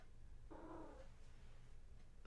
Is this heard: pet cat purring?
yes